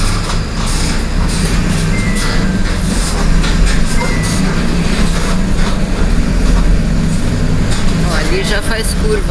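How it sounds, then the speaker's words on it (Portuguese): A metro train in Santos runs through a series of curves, a loud continuous rumble with rattling and faint wheel squeal, while people talk over it. "Olha onde o metrô entra quando sai da estação."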